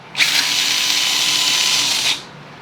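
The motor of an RGT EX86110 Pioneer RC adventure car whines steadily at full throttle for about two seconds, high-pitched, loud and close, then cuts off abruptly.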